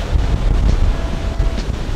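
Raw Hawaiian ocean swell rolls in as steady surf and whitewash, a constant low roar of breaking waves with gusting wind buffeting the microphone.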